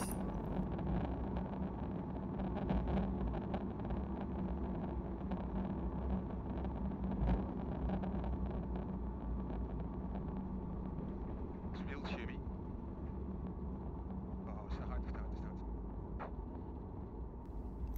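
Light aircraft PH-MNX taxis back to the hangar. Its engine gives a steady, moderate cockpit drone with wind noise, and a voice talks over it.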